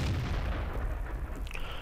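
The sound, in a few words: artillery shell hitting a tank in World of Tanks video game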